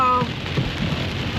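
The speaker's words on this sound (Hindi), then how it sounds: "बहुत तेज बारिश हो रही है, लिटरली पानी भरा हुआ है नीचे।" A heavy downpour at Hampi in Karnataka, loud and continuous, with water gushing and low rumbles, while a brief tonal sound fades in the first moments.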